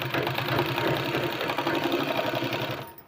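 A sewing machine runs steadily as it stitches a sleeve, its fast rhythmic mechanical whir close and loud, then stops abruptly just before the end.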